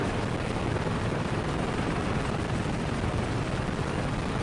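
Hiller UH-12B helicopter in Microsoft Flight Simulator 2024 produces a loud, steady broadband engine and rotor roar that holds constant throughout, close and alone.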